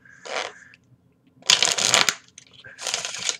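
A deck of playing cards is riffle shuffled in three separate bursts, each a close, crisp flurry of riffling cards, with quiet pauses between them.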